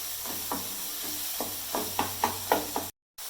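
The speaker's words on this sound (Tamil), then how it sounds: "அது வரைக்கும் அப்படியே கொஞ்சம் பொறுமையாக அதை கிளறிட்டு இருக்கணும்" Tomato chutney sizzles steadily in a hot pan while a spoon stirs it, soft regular scraping knocks about every quarter second over a constant frying hiss, close up, no voices.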